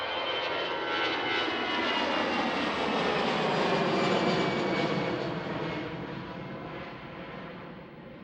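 An airliner bound for Paris takes off from Runway 36L at Schiphol Airport, its jet engines producing a loud, broad roar that swells and then gradually fades as it climbs away.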